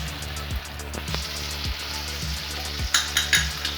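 Tomatoes with salt fry in a pan for an Assamese fish curry, sizzling steadily up close while a spoon scrapes and stirs, with a few sharper clanks near the end.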